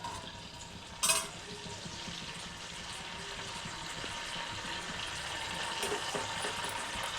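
Mustard seeds splutter in hot oil in a wok for Telangana-style Anapa Gudalu, a dense steady crackle and sizzle with one sharp pop early on, heard alone.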